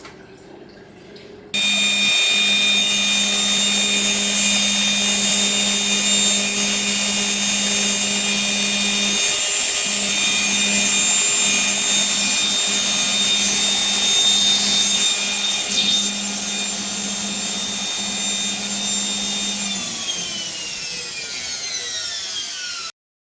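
An Electrolux EWF 10751 washing machine spins empty during a test, giving a steady loud whirring drone with a constant hum and high whine that holds for about twenty seconds before slowly winding down.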